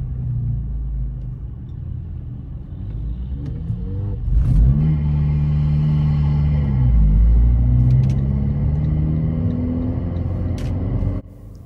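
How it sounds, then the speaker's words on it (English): A car engine drones low and strained, revving heavily in too low a gear during a driving test, with a steady rumble throughout, close and loud. "as you can hear again, the poor engine is working rather hard"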